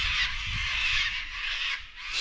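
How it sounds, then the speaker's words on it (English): Loud, harsh honking calls from a flock of cockatoos on a remote uninhabited island, a steady raucous chorus carrying on through the clip without talk. "Whoa, cockatoos. Geez, they're noisy birds, aren't they?"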